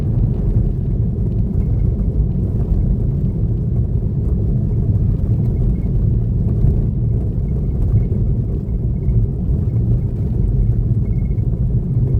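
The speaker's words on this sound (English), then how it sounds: "Road goes from bitumen to gravel." A car rolling along a gravel road, a steady loud low rumble of tyres and engine heard from inside, continuous and unchanging.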